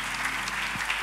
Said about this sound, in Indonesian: Dengan tepuk tangan dulu bagi Tuhan kita.